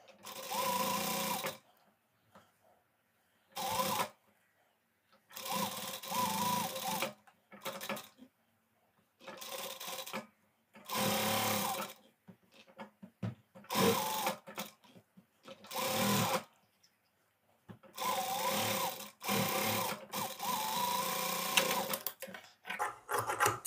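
A sewing machine stitches blouse pieces in short whirring bursts of rapid needle clatter separated by brief pauses, loud and close, with no voices.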